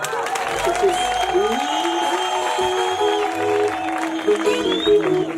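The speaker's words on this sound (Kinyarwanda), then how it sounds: "twongera amashyi" Congregation applause at a Rwandan church worship concert, steady dense clapping from a crowd running throughout over sustained music and singing.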